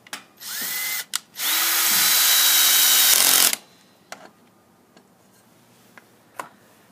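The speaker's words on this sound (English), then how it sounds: "Using a drill, attach the screw." Power drill driving a screw into a 4x4 post to attach a ReciProMate, two loud whirring bursts with the second one longer and sustained, followed by a few sharp clicks and taps.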